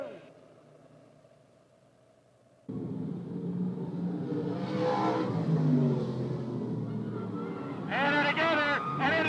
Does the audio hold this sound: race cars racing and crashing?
yes